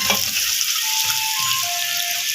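A generous batch of onions for Indian-style street food fries in a hot pan, giving a continuous bright sizzle with occasional crackles and a brief clatter at the start, no voices present.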